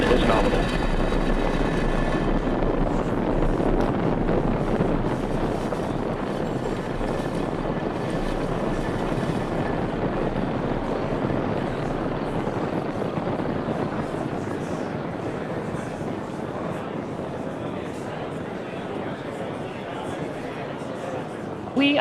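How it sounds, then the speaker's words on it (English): SpaceX Falcon 9 rocket engines roar steadily just after liftoff of the Transporter-8 mission from Space Launch Complex 4 East, a dense continuous rumble heard at a distance beneath ongoing launch commentary. "Engines full power. And liftoff of Transporter-8."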